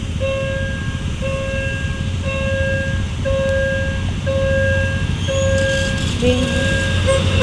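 Thai ordinary train no. 258 leaving Kanchanaburi at a level crossing near U Thong. A crossing signal chimes repeatedly and evenly over a steady, continuous railway rumble, with no voices.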